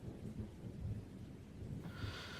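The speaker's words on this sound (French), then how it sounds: "la peur du tonnerre, celui qui résonne après les clairs zigzags de l'éclair" Thunder rolling after a lightning strike, a faint low rumble that swells and fades over a couple of seconds, distant and soft, with no voices.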